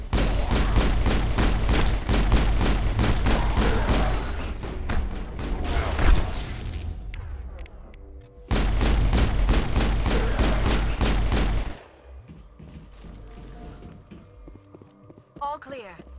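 Dense bursts of rapid gunfire in the Mass Effect video game, two long loud volleys with a pause between them, then quieter scattered noises.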